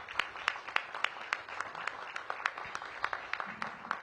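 Scattered applause from an audience at a mayor's press event for a council member: distinct, separate claps in an uneven rhythm from a small, fairly quiet crowd, heard without talk.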